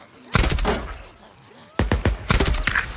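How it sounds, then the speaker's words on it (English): Gunfire in the video game Days Gone, with a burst of loud, close shots followed after a pause by another rapid volley of sharp cracks. "I hear gunshots."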